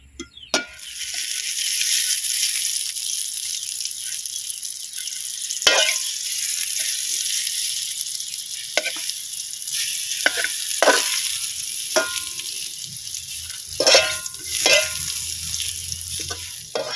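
Bananas frying in a pan of hot oil, a continuous loud close sizzle with occasional sharp pops and stirring scrapes, no voices.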